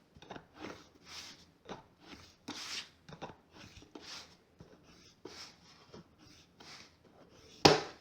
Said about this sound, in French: je vais me servir de cette planche de marquage pour tracer mes traits précédemment faits au crayon